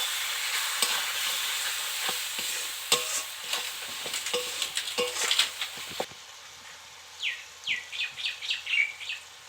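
Chicken with chili powder being stirred in a frying pan, with scraping and soft sizzling over the first half, then sharper chirping sounds join after a brief pause.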